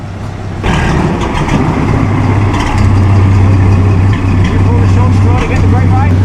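An Alfa Romeo six-cylinder car passes at a concours event, its engine giving a loud, steady rumbling drone that rises and holds, while a commentator speaks over it.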